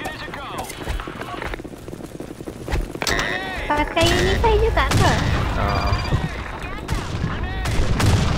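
Bombs exploding in the online shooter Blackshot, with booming blasts and rapid gunfire layered into a dense, loud, continuous battle din while players talk excitedly over it.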